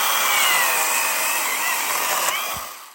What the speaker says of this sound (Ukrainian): Як бачимо, чітко ріже.